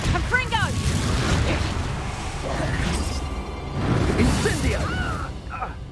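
Spell blasts from Confringo and Incendio cast in Hogwarts Legacy, heavy booming bursts and whooshing fire effects rising and falling across the scene, with a voice shouting between the impacts.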